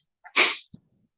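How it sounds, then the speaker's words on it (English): A single sneeze in a courtroom during a criminal docket hearing, a short breathy intake followed by a loud burst, then a faint sniff or click and quiet. "Try not to sneeze."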